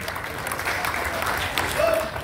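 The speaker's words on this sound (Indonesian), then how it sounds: "Tepuk tangan untuk beliau." Applause from an audience at a Golkar party youth wing anniversary and inauguration event in Indonesia, a continuous wash of clapping under a faint voice.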